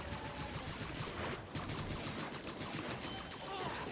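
Rapid gunfire in Paladins rattles out in fast, continuous bursts, dense and close, with a brief gap partway through before the shooting resumes.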